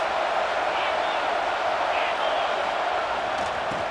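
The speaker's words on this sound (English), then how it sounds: "This crowd trying to make life miserable for this offense." Stadium crowd at a college football game between Auburn and Florida State, a dense, steady roar of thousands of voices that fills the whole moment without letting up.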